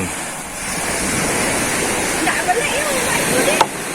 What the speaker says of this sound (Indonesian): ombaknya cukup tenang nih, belum besar